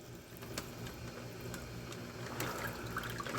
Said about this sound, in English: we'll run some water in them.